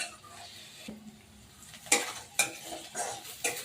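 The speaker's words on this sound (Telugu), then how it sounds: "ఆనియన్ ముక్కలు 2 మినిట్స్ వరకు మనం రోస్ట్ చేసుకోవాలి వీళ్ళని." Onion pieces roasting in a pan for egg curry, soft sizzling broken by several sharp stirring scrapes and clinks of a spoon against the pan, up close and without speech.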